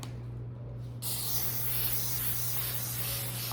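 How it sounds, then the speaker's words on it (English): After a second of quiet, a sustained hissing blast of cooking spray begins and continues evenly to the end. "Do we need to put the Spray spray on?"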